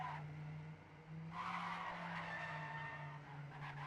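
A race car drifts up a slope in a racing video game, its tyres squealing and skidding over a steady engine drone, loud and continuous for a few seconds.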